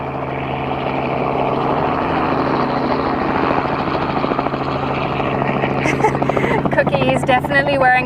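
A helicopter carrying an elephant-collaring team drones steadily and loudly throughout, its rotor hum constant, with voices talking over it and some higher chatter toward the end.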